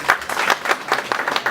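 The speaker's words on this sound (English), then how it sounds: "You better clap for him." A small seminar audience claps for a presenter at an evening event, a brief burst of scattered, uneven hand claps from a modest crowd, fairly close and moderately loud.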